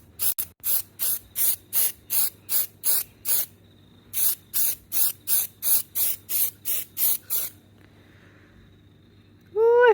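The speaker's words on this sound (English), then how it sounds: "I've got some gold spray paint, which I had in the shed from another project." Gold spray paint hisses from an aerosol can onto a fake bug in about seventeen short, evenly spaced bursts, split by a brief pause into two runs, each blast close and loud, then quiet.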